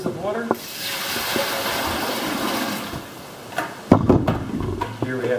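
About six liters of water pour in a steady rushing stream into a container while soda-ash solution is mixed for Japanese-style gampi papermaking, fairly loud and close, followed by clunks and brief talk.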